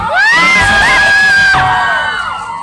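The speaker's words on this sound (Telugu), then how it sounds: "దాన్ని మీ అందరూ ఒకసారి గట్టిగా అరిస్తే, లేకపోతే గట్టిగా చప్పట్లు కొడితే" A crowd at a live event shouts and cheers loudly and steadily for about two seconds, with children's high voices whooping on top, then the noise fades slightly.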